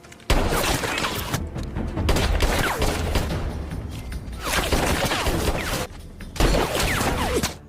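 Gunfire exchange in an action film: bursts of rapid shots and mechanical clatter fill the scene in loud, dense stretches, broken by brief quiet gaps and a sharp onset near the start.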